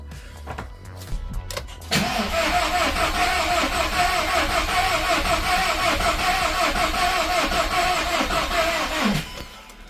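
A VW Scirocco engine cranks in one long, steady rhythmic churn of about seven seconds without catching, loud and close, after some brief handling noises. The battery may be running low.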